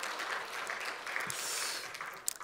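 An audience at a church festival testimony event applauds, a soft, steady patter of clapping from a crowd heard at a distance, with no speech over it.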